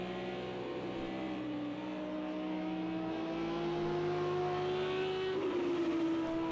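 A Lamborghini GT3 race car in Project Cars 2 racing at Watkins Glen holds a steady, sustained engine tone that slowly rises in pitch as it accelerates, with the note continuous and prominent throughout.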